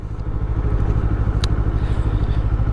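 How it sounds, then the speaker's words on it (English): A Kawasaki Eliminator parallel-twin motorcycle revs hard toward redline, its intake giving a loud, close, rapidly pulsing engine drone with no talking. "once you get towards Redline, the intake sound is more enjoyable"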